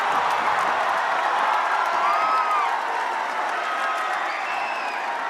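A basketball crowd at an MPBL playoff game, Pangasinan versus Abra, roars in a steady, loud wall of cheering and applause after a blocked shot, with scattered whoops rising above it.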